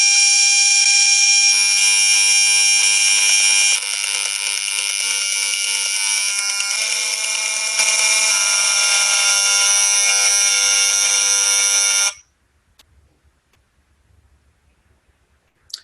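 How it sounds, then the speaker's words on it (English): Simulated wireless radiation in a home, layered as a loud, dense, high-pitched electronic buzz and whine with shifting pulses for about twelve seconds, stopping abruptly into near silence with faint rustles. "Some homes sound like this."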